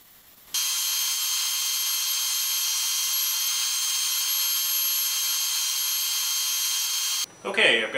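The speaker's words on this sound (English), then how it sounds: "I've got one of them chucked up in the CNC. Going to go ahead and run this program." CNC machine running a program to cut a 23 by 23 inch wooden blank, a loud, steady high-pitched whine that holds unbroken for about seven seconds before stopping abruptly.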